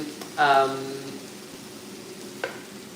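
Chopped onions hit a hot pan with a short, bright sizzle lasting under a second, then settle into a faint, steady background hiss.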